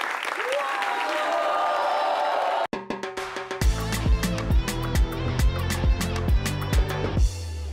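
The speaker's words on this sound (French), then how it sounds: "On les applaudit très fort." A crowd claps and cheers loudly at first, then upbeat music with a heavy thumping beat takes over.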